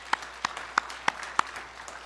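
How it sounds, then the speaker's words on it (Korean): Sparse clapping during a church worship service, a handful of sharp distinct claps spaced about a third of a second apart over a quiet background, fairly faint. "영광의 박수를 하나님께 드리겠습니다."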